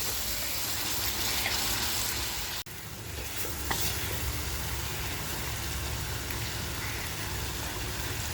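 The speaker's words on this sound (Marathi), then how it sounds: "आता मसाला आपल्याला छान असा मिक्स करून घ्यायचा आहे" Chicken masala stirred in a pan for a dhaba-style curry, giving a steady close sizzle with scraping stir strokes throughout and one brief dip near the middle, no talking.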